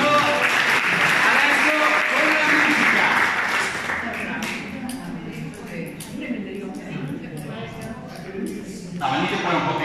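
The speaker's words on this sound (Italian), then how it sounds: "un applauso!" A mambo dance class bursts into lively applause, loud and close at first and then thinning slightly, with a few voices and chuckles mixed into the clapping.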